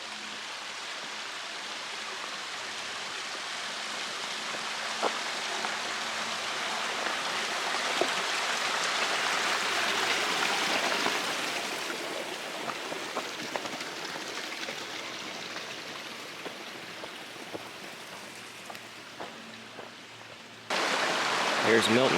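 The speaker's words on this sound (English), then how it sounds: "Here's Milton Creek." Creek water from Milton Creek in Northern California runs steadily as a broad, continuous rushing wash, fairly close, with a few small knocks and a louder shift near the end; no talking over it.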